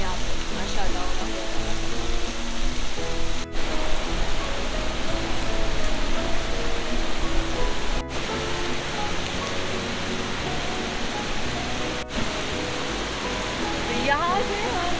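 Rushing water pours at Umbrella Waterfall, a loud, unbroken roar of falling water that holds steady throughout, broken only by a few sharp clicks.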